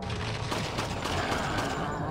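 Rapid bursts of gunfire from a video game, repeated pistol-type shots blending into a dense, loud volley over a steady game soundtrack.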